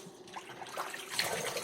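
Vegetables for napa cabbage water kimchi being rinsed under a running kitchen tap, a steady close splash of water with brief rustling and clatter, no talking.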